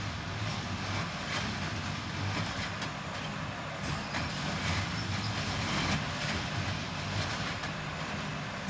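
A railway track tamper machine on Brightline construction near Melbourne works at a distance, producing a constant heavy mechanical rumble and hiss as it lifts rails and tamps ballast, with no voices.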